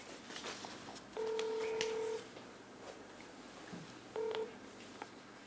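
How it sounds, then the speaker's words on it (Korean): Two clear DTMF tone bursts from a telephone being dialed to connect a call, each a steady beep under a second long, heard alone over faint room hiss. "전화 연결 한번 부탁드릴게요."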